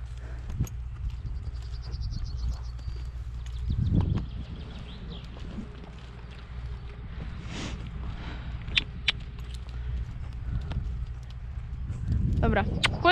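Horse lunged in a bridle, hooves thudding in a steady rhythm through the ground, moderately loud, while a person talks now and then over the footfalls.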